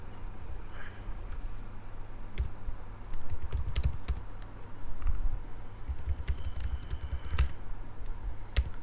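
A computer keyboard is typed on at a desk while logging into a Rocky Linux server, with quiet, irregular clicks and taps in short bursts over a low steady hum.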